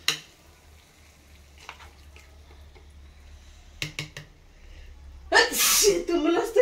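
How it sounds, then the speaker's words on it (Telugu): Sneezes set off by a pungent ridge gourd peel chutney with chillies: one sharp sneeze at the start, small sniffs and breaths, then a louder burst of sneezing near the end, all close and indoors. "తుమ్ములు వస్తున్నాయి ఘాటుకు."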